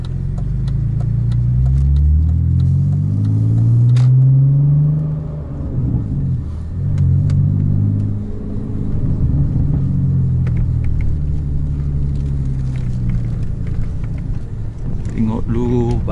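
A manual-transmission car pulls away from a stop with a steady low engine rumble whose revs climb and shift in pitch across the gears, close and continuous throughout.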